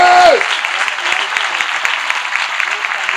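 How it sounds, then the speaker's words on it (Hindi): A church prayer-meeting crowd claps loudly and continuously, a fast, dense wash of hand claps filling the room after a brief tone at the start. "Now clap for Jesus."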